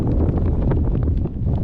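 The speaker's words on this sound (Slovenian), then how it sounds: "Veter veje skozi tele jesenske trave" Strong mountain wind blows through autumn grass, a loud, constant rushing roar with gusty buffeting right at the microphone, with no voices.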